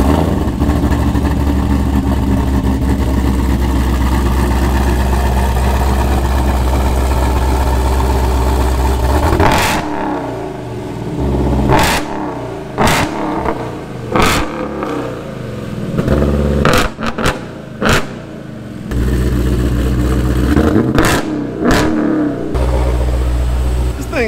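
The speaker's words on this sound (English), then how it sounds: "Heck, we'll rev it up in this video too." A Jeep Trackhawk with its supercharged Hellcat V8 running on E85 idles loudly and rumbles close by, then gets a series of sharp revs and blips, each rising and falling quickly in a loud, uneven burst pattern.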